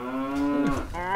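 A Brahmin, the two-headed mutant cow of the video game Fallout 3, lets out a long droning moo with a falling pitch, loud and close, followed by a brief second call rising at the end.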